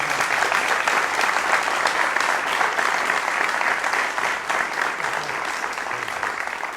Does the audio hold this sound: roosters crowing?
no